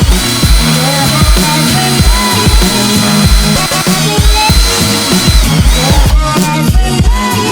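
A power drill whines loudly and continuously, close by, with rhythmic pulsing as holes are drilled for the trunk lining during a carbon fiber trunk install on an E46 M3.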